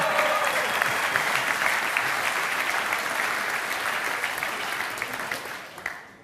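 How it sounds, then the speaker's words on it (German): A concert audience at a brass band gala gives loud, sustained applause, a dense wash of clapping that slowly thins and fades out near the end. "Auch nochmal einen herzlichen Applaus und noch größer."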